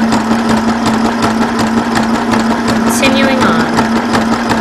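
A small Janome Sew Mini sewing machine stitches fabric with a steady, close, rapid mechanical whirr and chatter that runs without a break, with a hum beneath it and a brief higher squeak partway through.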